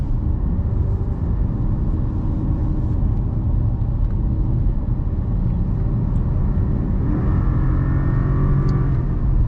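A deep, loud 4.6-litre V8 engine of a 2009 Cadillac STS rumbles continuously from inside the car, the revs swelling and building toward the end.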